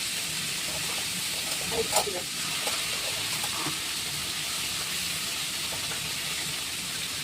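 Cumin paste goes into a hot pan of oil for a hilsa curry, and a crackling sizzle rises with a few sharp spits and pops early on. After that a steady frying hiss carries on.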